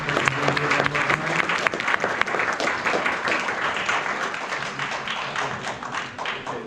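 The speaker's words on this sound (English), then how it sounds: "let's give a round of applause to Dr. Alp Aslandogan" Audience at a lecture on the Hizmet movement applauding a speaker, a dense, sustained round of clapping with some hollow taps and thumps, fairly close and steady throughout.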